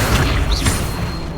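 The Accio summoning spell firing in Hogwarts Legacy, a loud booming magical burst with a brief rising whoosh, dense and close, over continuous game background noise.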